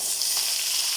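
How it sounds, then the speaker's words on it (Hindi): Onions fry in a pan for a curry made from bitter gourd peels, producing a steady, close, bright sizzle that holds evenly with no talk. "प्याज हमारे फ्राई हो रहे हैं जी"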